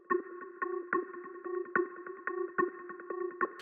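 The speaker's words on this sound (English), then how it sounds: "you create that dissonant sound here to go off key actually" A looping synth pattern of sharp pulses with a wobbly, off-key pitch-shifted tone, steady and rhythmic, fairly dry.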